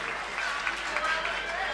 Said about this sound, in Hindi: जोरदार तालियां बजाइए एक बार जनाब अनीस बेग के लिए।